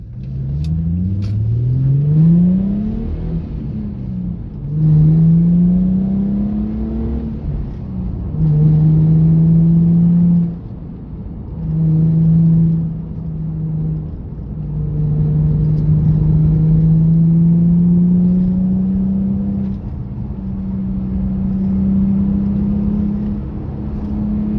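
A 2007 Infiniti G35 with rear-wheel drive and a limited slip differential revs and accelerates through several gears, each pull rising in pitch and then dropping at the shift, loud and close with no talk.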